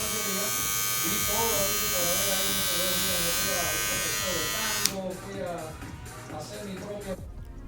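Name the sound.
Kemei KM-1102 electric shaver running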